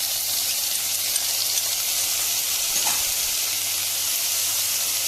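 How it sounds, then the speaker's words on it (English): Green peas sautéing in a kadai alongside mushrooms and makhana, a continuous loud sizzle and hiss of frying with no talking. "we can saute our green peas as well"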